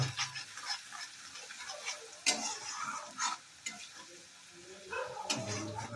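Turmeric and Kashmiri chilli powder being mixed in a frying pan with hot oil, with close scraping stirs over a light sizzle and a sharp utensil knock partway through.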